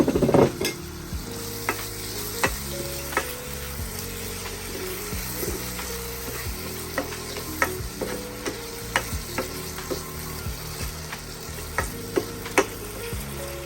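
Tomatoes frying in a pan for cheese noodles, a steady close sizzle broken by repeated sharp scraping and stirring knocks from start to finish, with no talking.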